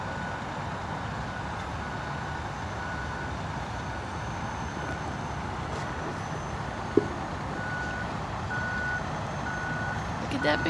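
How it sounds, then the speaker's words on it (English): A concrete truck at a construction site backs up, its reversing alarm beeping steadily over a constant loud rumble of engine and site noise, with one sharp knock partway through. "Oh, the concrete truck's moving back."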